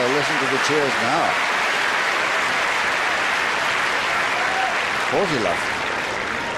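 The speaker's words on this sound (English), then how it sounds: "Cheers now." Tennis crowd at the 2005 Rome semifinal cheering and applauding, a steady wash of clapping throughout with a voice speaking over it at the start and again near the end.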